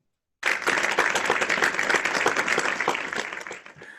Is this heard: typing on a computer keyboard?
no